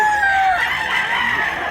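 A rooster crows loudly and close at a busy chicken market in Tabunok, Cebu, one long drawn-out call over a dense background of other fowl and crowd noise.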